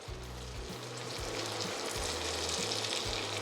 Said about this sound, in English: Cook until your onions are translucent.